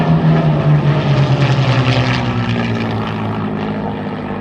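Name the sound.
airshow victory flight aircraft breaking formation one after another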